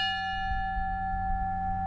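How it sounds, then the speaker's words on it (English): A memorial bell rings in Connecticut for victims of the L'Ambiance Plaza building collapse, its single sustained tone decaying slowly over low outdoor rumble. "bells ring for each of the 28 victims"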